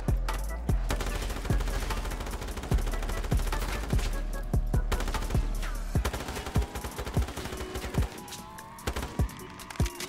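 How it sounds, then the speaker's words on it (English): A Finn LMG light machine gun fires in Black Ops 3 custom zombies, loud rapid bursts of gunfire cracking over a steady low drone, with the firing thinning to scattered single shots toward the end. "The Finn LMG."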